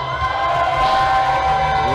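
A packed youth-center crowd at an indie wrestling show roars and cheers for a plus-size wrestler's entrance, a loud, sustained wall of shouting and whooping with a commentator's voice riding over it.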